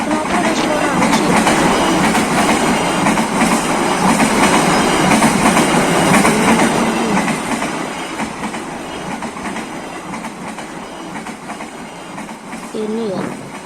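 Railroad cars of a passing train roll by with a dense, steady clatter and rumble, loud and close at first and then easing off, with occasional wheel squeal near the end.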